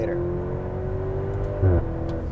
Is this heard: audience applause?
no